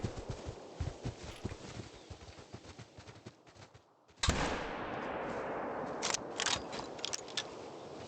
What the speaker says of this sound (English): That was a lung shot, I think